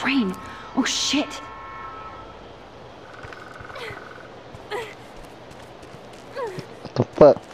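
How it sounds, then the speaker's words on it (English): A train horn from the Life is Strange video game sounds during a storm, with scattered honks and toots over a rumbling backdrop and a young woman calling out several times. "What's that noise? The train."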